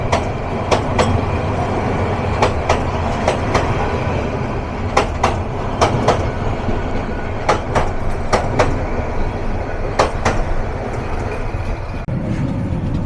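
Intercity Kishoreganj Express passing through Tongi railway junction without stopping, a steady loud rumble of wheels on rails punctuated by repeated sharp clickety-clack beats from rail joints, easing toward the end.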